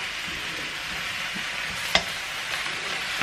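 Courgettes and mushrooms sautéing in a pan are stirred, giving a steady close sizzle with light scraping, a brief sharper clack near the middle.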